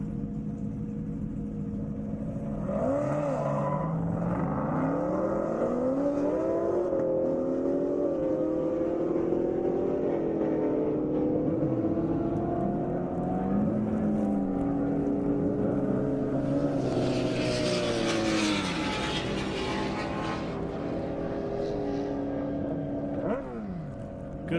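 A Corvette and a Hellcat race at speed down an airstrip during a standing-mile event, their engines roaring and shifting pitch as they accelerate past, loud and sustained with a rising whine near the end.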